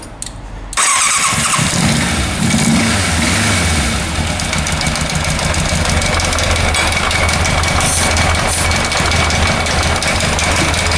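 A moped engine starts abruptly and then runs loud and close at a rough, uneven idle while brake cleaner is sprayed around its lower part, with faint hissing bursts over the rattle.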